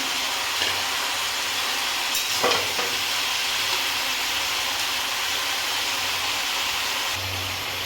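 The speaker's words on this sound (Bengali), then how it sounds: "এবার ভেজে রাখা মাছের মাথাগুলোকে দিয়ে দেবো" Fried fish heads frying with cauliflower in a pan, a loud, steady hiss of oil with a brief clatter as pieces go in and low rumbling underneath, close by, no speaking.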